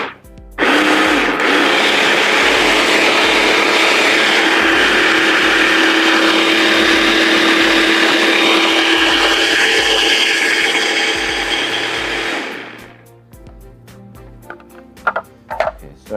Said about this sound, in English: now we'll just put on the top to our food processor here and let it run